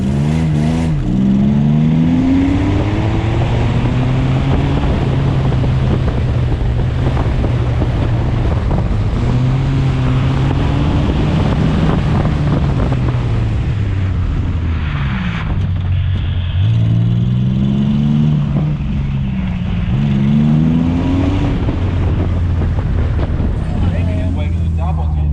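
A V6 Ford Mustang on an autocross run on a slippery track at an Octoberfast autocross event, its engine heard from on board, repeatedly revving up and dropping back through gears under constant loud wind rush.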